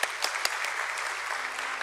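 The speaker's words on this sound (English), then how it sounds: "Let's give a huge round of applause for her, please." Applause for a prayer leader at a stock exchange listing ceremony for a company at BSE, steady clapping from an audience with a few sharper claps near the start, continuing throughout.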